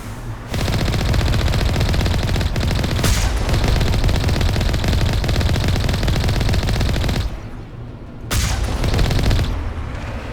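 Rapid cannon gunfire from the Mass Effect video game, a dense, loud continuous barrage of shots lasting most of the stretch, with a short lull near the end before firing resumes.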